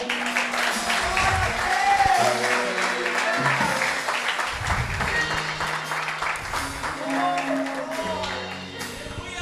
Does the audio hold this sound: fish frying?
no